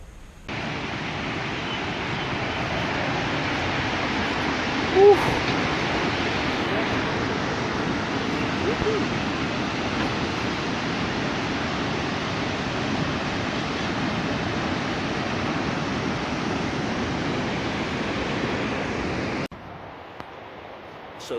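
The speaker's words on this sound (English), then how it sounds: "we were taken to a couple of amazing waterfalls, like huge, some of the biggest ones in South America" Huge waterfall at San Agustin, Colombia, one of the largest in South America, roaring as a steady broadband rush for about twenty seconds, dense and constant, cutting off abruptly near the end.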